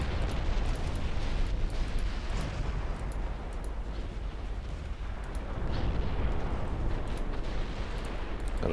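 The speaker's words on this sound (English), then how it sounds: "Got a torpedo hit on the battlecruiser." A torpedo strike on a battlecruiser in the naval video game Ultimate Admiral Dreadnoughts, heard as a low, rumbling explosive roar that stays heavy and continuous under steady battle ambience.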